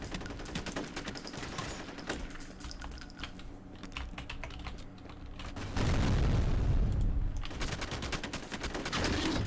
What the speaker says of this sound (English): I'm just gonna chuck nades at this thing.